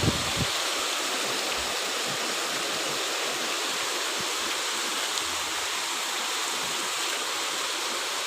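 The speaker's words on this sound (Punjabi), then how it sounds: "ਮੀਂਹ ਬਹੁਤ ਜ਼ਿਆਦਾ ਵਾ" Heavy rain with floodwater flowing through the streets makes a continuous rushing wash, broad and steady, with a few faint knocks and no speech.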